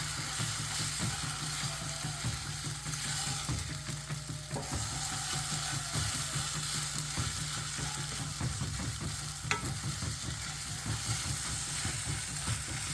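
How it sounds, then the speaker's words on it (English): Eggs with mushrooms are lightly scrambled over low heat in a pan, a constant close sizzle broken by frequent rhythmic scraping and stirring strokes of a utensil against the pan, with no talking. "We're just gonna scramble it. And lightly scramble it."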